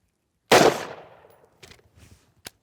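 A single sharp firearm gunshot during snap shot practice at an outdoor range, loud and close with a decaying echo, followed by faint clicks and handling noises.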